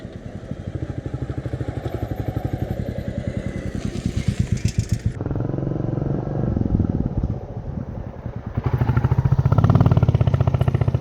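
A motorbike the rider calls Gajraj rumbles close by on the road to a hill station, its engine note steady and loud with a rhythmic thump, dipping briefly midway and then surging again near the end.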